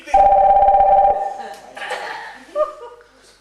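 A telephone rings in an amateur theatre comedy, one steady electronic ring lasting about a second, loud and close, followed by scattered voices and a burst of laughter.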